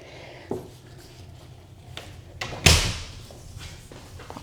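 A resistance band anchor being shifted to the lower part of a door, giving a few scattered knocks and one sharp, loud thud partway through, with quieter bumps before and after and no talking.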